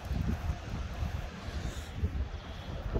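Wind blowing outside at a beach in Saint-Louis, Africa, a steady rough low rumble with gusting buffeting against the microphone, continuous for the whole stretch and fairly loud, with no talk.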